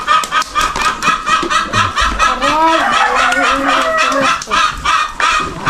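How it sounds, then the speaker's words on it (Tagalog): Noisy chickens clucking and squawking in a busy, continuous chorus, with overlapping calls rising and falling at close range and no one speaking. "Ang ingay ng mga manok."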